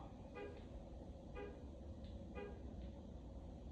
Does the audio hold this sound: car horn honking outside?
yes